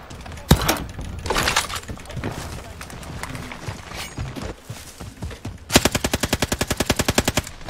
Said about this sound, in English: people shooting us